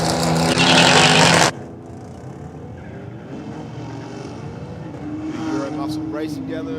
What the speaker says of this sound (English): Euro Muscle racing down the racetrack right now